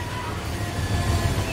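A train in the video game Transport Fever 2 rumbles steadily past, a continuous low rolling drone with no talk over it.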